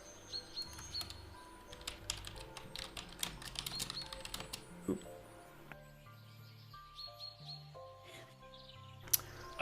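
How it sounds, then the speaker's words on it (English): Loud mechanical keyboard keys clatter in irregular bursts of sharp clicks, with quieter stretches and a few bright chirpy tones mixed in the background. "I have a mechanical keyboard. It's very loud."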